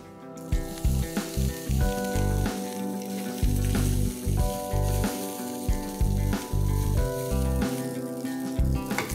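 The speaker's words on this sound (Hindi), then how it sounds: "अब हम इसमें थोड़ी सी इडली डालते हैं।" Idli pieces sizzling steadily in a hot pan with curry leaves, a loud, continuous frying crackle with rhythmic bursts as the pieces are stirred and tossed, heard close with no talking.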